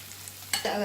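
Chili, coriander and garam masala powders frying in ghee with cooked tomato: a brief close sizzle that jumps louder as the mixture is stirred.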